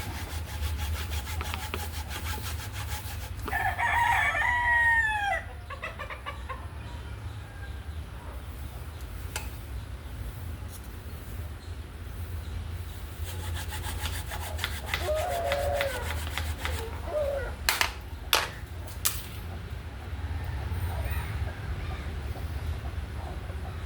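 A cassava stem is cut for planting, giving close, rough rasping strokes that come in bursts with quieter gaps between, over a low background hum.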